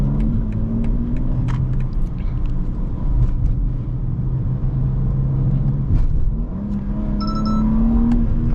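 A BMW G82 M4 sports car engine drones steadily as it drives, a low rumbling hum that rises and shifts with acceleration, with no talk over it.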